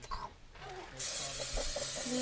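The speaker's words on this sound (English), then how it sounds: "spray and cook." Cooking spray sprayed onto a pot lid: after a soft clink, a steady close hiss of aerosol starts and continues to the end, with faint background sounds beneath.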